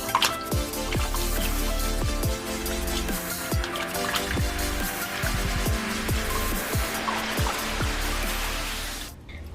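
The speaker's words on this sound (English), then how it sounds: "After washing my fish with lemon, I go ahead and rinse it off with some vinegar" Fish being washed with lemon and water for Jamaican brown stew, with irregular drips and splashes of water over a continuous running trickle and close handling noises.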